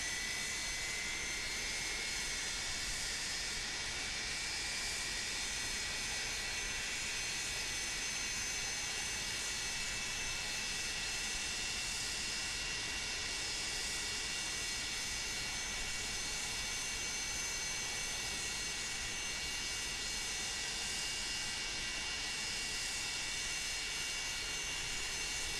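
Jet engines on an MD-82 airliner in Microsoft Flight Simulator run steadily for about half a minute, a continuous even whine and hiss at moderate level with no change in rhythm and no speech.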